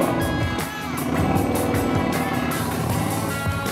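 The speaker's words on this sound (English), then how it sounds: "This exhaust sounds great too." A Yamaha Bolt motorcycle's exhaust gives a loud, close, continuous engine rumble with a steady throb and a slight dip early on.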